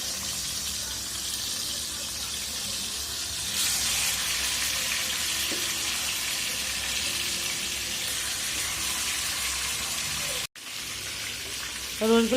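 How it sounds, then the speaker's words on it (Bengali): Lightly salted pieces of chicken roast fry in a pan with a continuous, close sizzle that swells slightly partway through and breaks off briefly near the end. "আমি 4 মিনিট ভাজবো, এক পাশ 2 মিনিট, ওই পাশ 2 মিনিট"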